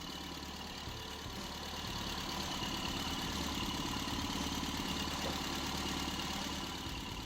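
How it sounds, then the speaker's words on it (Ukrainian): A 1978 Toyota Corolla engine idles throughout at moderate volume, a continuous low rumble with even texture and no voices. "Моторчик працює дуже гарно."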